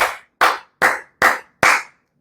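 Five loud, sharp hand claps close to the mic, evenly spaced about four tenths of a second apart, each ringing briefly before the next, with nothing else heard.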